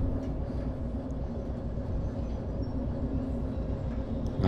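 Freight train with wagons rolling along track in Derail Valley, a steady close rumble with a rhythmic clatter of wheels, continuous and without talk.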